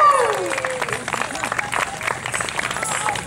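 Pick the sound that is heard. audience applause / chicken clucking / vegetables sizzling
audience applause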